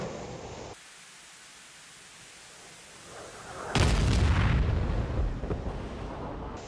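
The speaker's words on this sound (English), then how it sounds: "Shoot your missile by pressing weapon release." Missile launch in an F-15E flight simulator game: a sudden loud broadband roaring whoosh bursts in mid-clip after a quieter steady cockpit hiss and sustains, fading slightly toward the end, with no talk.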